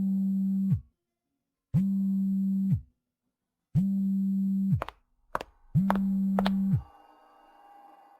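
Telephone ringback tone on a call: four long, even electronic beeps at a steady pitch with pauses between them, the last ones broken by short clicks before the line connects.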